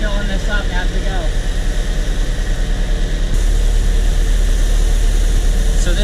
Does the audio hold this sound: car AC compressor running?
yes